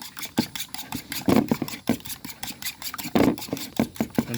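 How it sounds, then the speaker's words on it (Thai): Eggs beaten in a bowl for a Thai clear egg soup, a brisk irregular clatter of utensil against the dish in quick strokes, close and fairly loud, with no talking. "ผมจะตีไข่แล้วก็เทลงไปเลยนะครับ"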